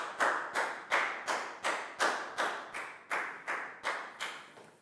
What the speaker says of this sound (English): Big round of applause for Prel, please, guys.